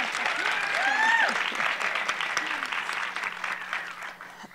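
Audience applause at a women's leadership salon, a broad wash of clapping that swells early and then slowly thins, with a voice speaking over it.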